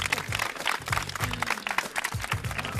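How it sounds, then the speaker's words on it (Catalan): Studio audience applause on a Catalan TV show, a dense patter of clapping under a loud voice talking over it throughout. "Aquest aplaudiment per tots."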